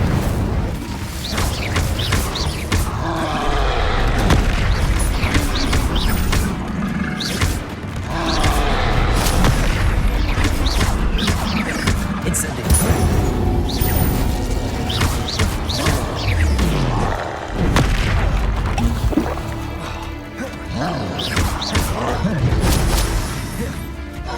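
Incendio fire spells burst repeatedly during a Hogwarts Legacy combat fight, loud whooshing blasts and impacts layered with crashes, thuds and game music, while a voice shouts spell names throughout.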